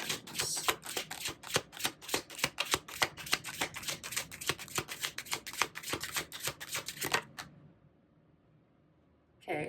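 Tarot cards shuffled by hand in a rapid riffling burst of crisp, close flicks and slaps that runs for about seven seconds, then stops, with a brief rustle at the very end.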